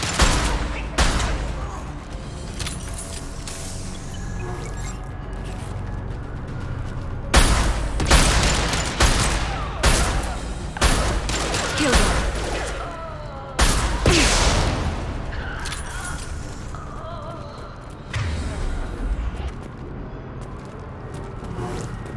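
Combat in the game Mass Effect 2, with repeated loud gunshots and booming impacts in heavy bursts over a steady background of battle noise and music.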